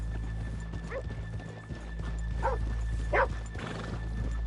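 Hooves clip-clop at a steady walk amid a busy town ambience in the video game Red Dead Redemption 2, with a horse snorting and whinnying a few times and a dog yapping faintly.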